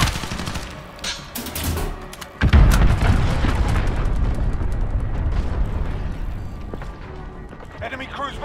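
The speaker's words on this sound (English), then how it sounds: "Allied cruise missile." A loud allied cruise missile strike in Call of Duty: Modern Warfare on PS4 lands as a deep booming blast with a heavy rumbling tail. It follows earlier scattered gunfire, and a voice speaks over the noise.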